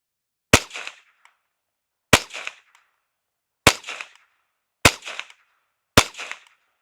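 Five separate reports from a Marlin Model 70P rifle fired at a steady pace, each a sharp, close crack with a brief echo tail, separated by silence.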